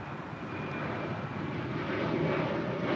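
A Delta Boeing 757-200 arrives at LAX, inbound from San Jose, Costa Rica, its engines giving a continuous close roar with a faint whine that swells slightly toward the end, heard alone.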